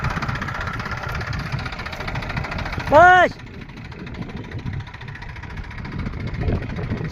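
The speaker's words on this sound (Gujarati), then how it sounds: "તો મિત્રો અહીં ટ્રેક્ટર સડાવી દીધું છે." A low tractor engine rumbles steadily throughout in a cotton field, with a brief tonal horn-like sound near the middle and a few spoken words.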